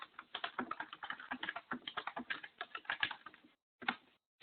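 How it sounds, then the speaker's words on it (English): Fast, close typing on a computer keyboard, a dense run of crisp key clicks with a short pause before a few final taps. "So I'll just start typing here."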